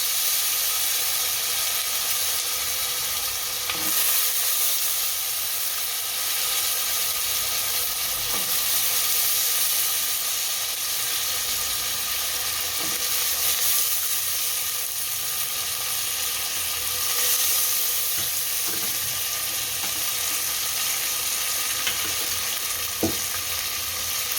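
Potatoes go into a pan of frying peanuts while preparing Jalaram khichdi, and a strong, continuous sizzling hiss fills the whole stretch, with occasional faint clicks and no voices.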